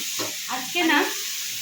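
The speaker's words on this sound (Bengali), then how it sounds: "নিরামিষ করছি আলু ভাজা" Potatoes fry in a pan for a vegetarian aloo bhaja, giving a constant close hissing sizzle, with a brief voice-like murmur rising over it partway through.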